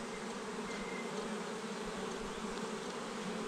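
Steady swarm buzz from honeybees in an open, queenless hive, continuous and close, a thick insect drone without pauses or speech.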